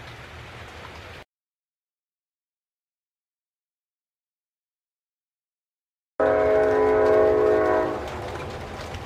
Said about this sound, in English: Oh good, I found the train.